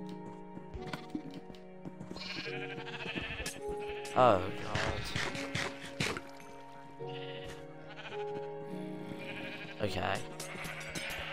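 Sheep in the Minecraft video game bleat repeatedly, several overlapping bleats in a busy cluster with louder bursts near the middle and end, under and between a person's occasional speech.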